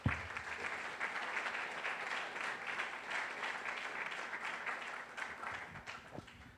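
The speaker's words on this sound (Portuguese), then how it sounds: "vamos aplaudir esse Deus" A church congregation at a Sunday service applauds together, a steady, dense wash of clapping lasting several seconds, moderately distant, with faint voices mixed beneath it.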